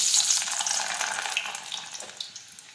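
Peeled dried garlic cloves sizzle and crackle in hot oil in a home kitchen, a bright steady frying hiss that gradually eases off, with no talking.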